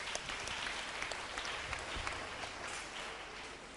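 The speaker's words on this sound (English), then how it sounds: "Can we clap for Jesus for that?" An audience at a fish farming seminar claps together, a fairly quiet, dense wash of many hands that holds steady for several seconds with a few sharper individual claps standing out.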